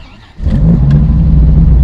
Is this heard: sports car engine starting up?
yes